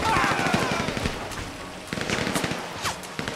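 Rapid bursts of gunfire from a new weapon in GTA Online, sharp repeated cracks in quick volleys across the clip, close and loud over game background noise.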